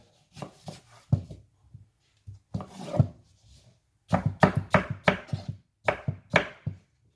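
A knife chops ingredients for a weight-loss juice on a cutting board in quick irregular clusters of sharp taps, close by, with brief pauses between bursts.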